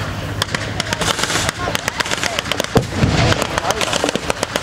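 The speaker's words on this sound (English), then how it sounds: "There's covering fire coming in from somewhere." Rapid cracks and pops of blank gunfire echo through a military vehicle show battle reenactment, with a half-track supporting infantry, the shots fairly close and irregular over a steady crowd and engine rumble.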